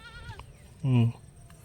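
A single short goat bleat rings out close by, with a brief voice sound just before it.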